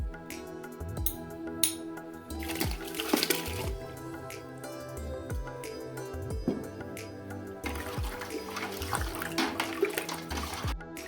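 Five litres of cold water splash and gurgle steadily into a pot for brining cucumbers, with repeated low thumps and clinks of handling throughout; no one speaks.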